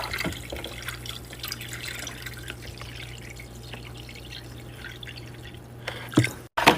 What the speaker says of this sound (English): Next, I add ice cold water. I fill it to the top.